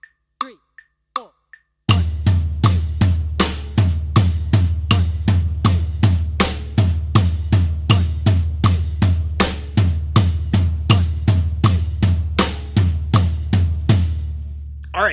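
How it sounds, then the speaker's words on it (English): Drum kit groove with the right hand splitting eighth notes between hi-hat and floor tom while the left hand plays snare on quarter notes, loud, close and steady for about thirteen seconds after a few sparse opening hits. "right hand playing the eighth note, split in between the hi-hat and the floor tom"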